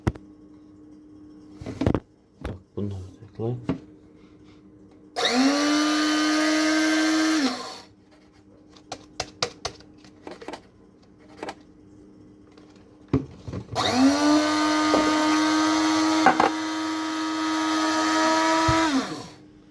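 An electric grinder grinds coffee beans for Turkish coffee at home in two loud whirring bursts of a few seconds each, separated by quiet gaps with small clicks and clatter.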